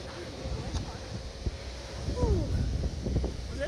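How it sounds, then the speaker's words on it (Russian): Gusty wind buffeting the microphone in a low rumble on a tennis court, with faint outdoor activity and a few brief sounds in the background. "И ветер совсем не мешает."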